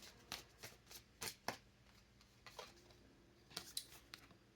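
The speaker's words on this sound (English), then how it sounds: "You see me shuffling." Soft, crisp riffling bursts of tarot cards being shuffled, coming in short irregular flurries at close range in an otherwise quiet room.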